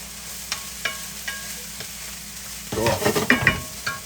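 Allspice, ginger and garlic hit a hot pan and start sizzling, a few light taps giving way to a louder burst of frying and stirring near the end, close and clear.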